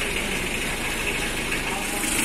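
A 2011 Mitsubishi L300 pickup engine idles at operating temperature, a steady, even rumble and hum heard up close with no clear revving throughout.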